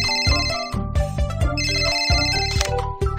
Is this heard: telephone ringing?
yes